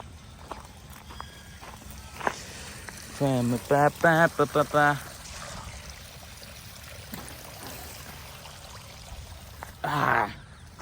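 Cold water gushes steadily from a borewell outlet, a constant rushing wash under two bursts of nearby talking.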